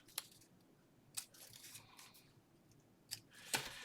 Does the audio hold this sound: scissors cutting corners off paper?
yes